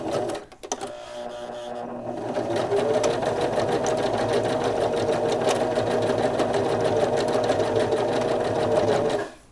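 A sewing machine stitches back and forth on a Kindle sleeve, starting with a brief burst, then running steadily and loudly up close for several seconds before stopping.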